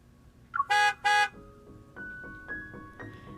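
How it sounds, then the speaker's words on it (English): Two short, loud car horn honks sound from outside on a snowy winter evening, followed by a lower, steady rumble of traffic or an engine. "A sudden honk sounds from outside."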